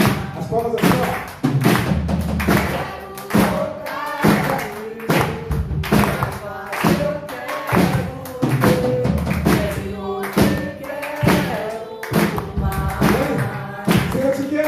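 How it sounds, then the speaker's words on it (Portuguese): Steady rhythmic clapping from a church congregation keeps time with a worship song at a family service, firm beats repeating throughout over continuous singing and music. "As palmas assim,"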